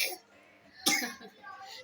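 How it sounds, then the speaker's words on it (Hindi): A child gives a single sharp cough, near and fairly soft, between quiet stretches with faint background voices. "खांसी आ रही है, बहुत ज़्यादा खांसी कर रहा है"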